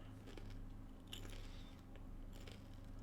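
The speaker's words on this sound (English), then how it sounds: "Sorry if you hear crunching. I also have little crackers." Small crackers crunched while eating, a few close, soft bites and chewing crackles over a steady low hum, with no talking.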